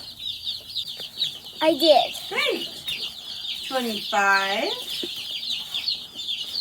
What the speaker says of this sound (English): The chickens are so small and cute.